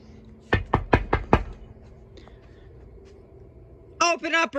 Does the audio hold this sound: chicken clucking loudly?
no